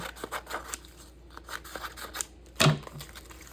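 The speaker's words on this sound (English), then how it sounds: "I'm going to cut the bottom off because I don't need it" Scissors snipping through paper while trimming scrapbooking thickers, a few soft close cuts followed by one sharper, louder snip near the end, no voices.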